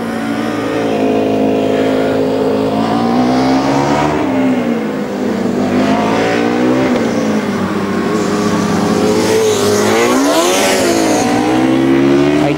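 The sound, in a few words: race car passing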